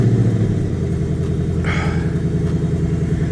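A 2024 Ford Mustang GT S650 V8 idling after a cold start, a loud, deep, steady burbling rumble close up, with a brief hiss partway through.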